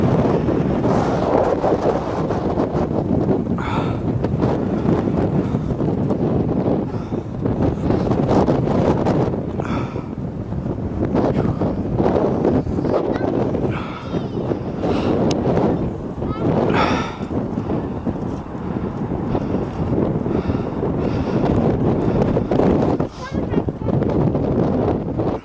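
Strong wind buffets the microphone at a high lookout point, a steady roaring rush with gusts throughout, and voices talk faintly beneath it.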